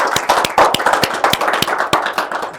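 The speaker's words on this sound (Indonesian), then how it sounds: "Boleh tepuk tangan sekali lagi." Clapping from a small audience at the close of a talk-show episode, sharp distinct hand claps in an uneven rhythm, close and fairly loud, forming a brief round.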